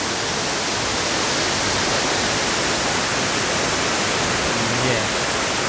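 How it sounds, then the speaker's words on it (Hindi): A waterfall near Nainital roars up close as a steady, dense broadband rush of falling water that holds even and loud from start to finish. "हम पहुंच गए बिल्कुल झरने के एकदम नज़दीक"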